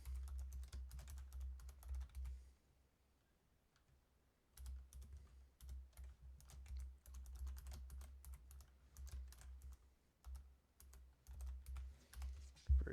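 Fast clicking keystrokes on a computer keyboard as a root password is entered, heard in quiet bursts with a short pause in the middle, close and clear with no talking.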